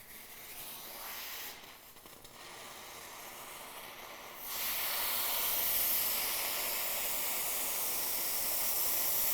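A steam cleaner's boiler releases a loud, continuous hiss of steam that briefly dips, then surges stronger and holds steady, close by with no talking.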